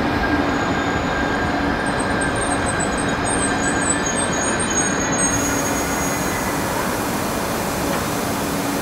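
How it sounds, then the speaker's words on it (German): Trains at the Engen and Singen railway stations, with loud, steady rumble of rolling stock and thin high wheel squeals over the first five seconds, then a continuous broad roar. "Jetzt werden gleich zwei Züge abfahren"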